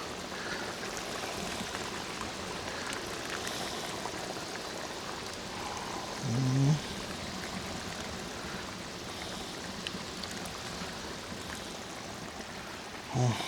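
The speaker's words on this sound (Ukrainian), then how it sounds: "Отакою струєчкою ми вливаємо." Liquid is poured in a thin, steady stream into porridge in a cauldron cooking outdoors, a continuous soft trickling and splashing heard close with a couple of brief clunks.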